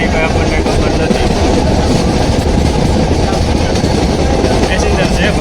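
A train runs along the rails approaching Bhater railway station, with a loud, continuous rumble and rhythmic clickety-clack of wheels heard close up, steady throughout with no clear talk.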